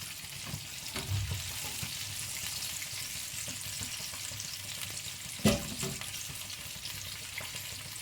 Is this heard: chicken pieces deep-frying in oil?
yes